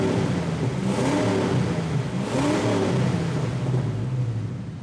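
Ford Mustang GT engine idling with a rusty, free-flowing exhaust, a steady loud rumble that swells slightly twice and fades a little at the end, with no talk.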